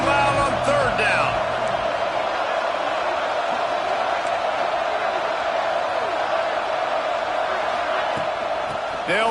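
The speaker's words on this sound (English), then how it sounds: "this crowd bearing down and getting loud on third down" Football stadium crowd at an Ole Miss game roaring steadily on third down, a dense continuous wall of noise with a few shouts, loud throughout beneath commentary.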